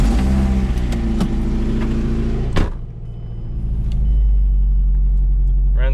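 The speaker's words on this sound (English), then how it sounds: "the Miata is going off to the shop to get the engine swapped. So I'm gonna try to start it up. This is the new engine." Mazda NC Miata with a swapped Ford 2.5 engine and cams, running close and loud with a steady engine note, a sharp rev burst in the middle, then settling back to a rumbling idle.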